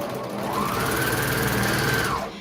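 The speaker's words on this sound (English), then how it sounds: "I'm just going to start sewing all the pieces together." A sewing machine runs steadily as dress bodice pieces are stitched together, giving a continuous close, loud mechanical whirr with a pitch that rises and then settles, and no talking.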